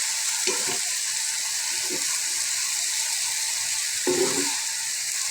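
Bottle gourd peel, flat beans and potato frying in a pan, a steady sizzle running throughout with a few short bursts of stirring scrapes breaking through at intervals.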